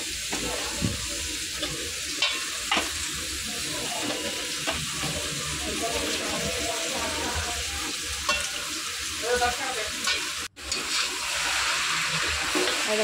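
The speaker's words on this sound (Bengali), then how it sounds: "আলুতে জল ছিল বলে তার জন্য আলুটা এভাবে হাত দিয়ে ছেঁকে ছেঁকে নিচ্ছে।" Potatoes fry and are stirred in a pan while a fish curry is cooked, giving a steady, close sizzle with scraping stirs throughout and one brief dip near the end.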